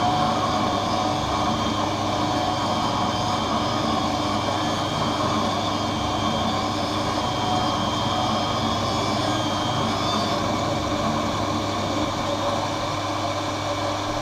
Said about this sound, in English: The little arm is going to come into place to apply the safety bevel to the front surface, the convex surface of the lens.